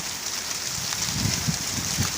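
Steady rain with gusting wind on a stormy day, a dense broadband wash with low rumbling buffets, continuous and fairly close, no voices.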